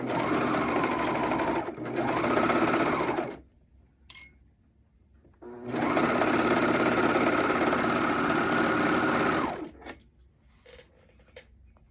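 Sewing machine stitching the side seams of a jumpsuit from armhole downward, in two steady mechanical runs of about three and four seconds separated by a quiet pause, close and loud with no talk.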